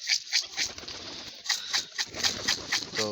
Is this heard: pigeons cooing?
yes